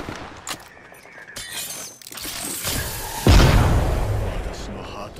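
An explosion goes off in the Apex Legends battle royale game, a sudden loud blast past the midpoint that decays slowly. Game sound effects and character voices come before it.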